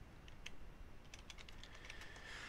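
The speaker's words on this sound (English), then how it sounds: "I'm typing ls, and it works" Quiet, rapid clicking of computer keys, a short burst of typing a command on Windows 10 with a few separate keystrokes before it, close by.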